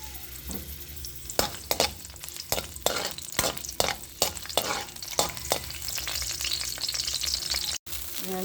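Garlic frying in hot cooking oil, with a continuous sizzle broken by irregular, fairly loud clatters and scrapes from stirring in the pan. The clatter is heavier early on and gives way to a steadier hiss.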